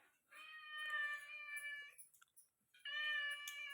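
A cat meows twice close by in two drawn-out, clear calls separated by a short pause. No talking is heard.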